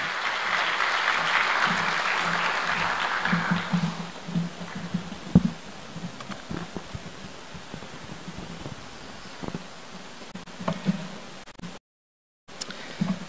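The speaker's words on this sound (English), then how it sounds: "let's give him a warm round of applause" An audience at an Africa Day lecture claps to welcome the CEO of the Uongozi Institute to the stage. The applause is full for about four seconds, then thins to scattered claps and rustling.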